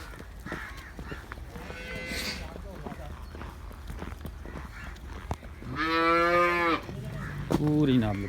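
A Girlendo dairy cow on a farm in Pakistan lets out a loud, drawn-out moo near the end, after a quieter shorter call, with farm background noise and some people talking nearby.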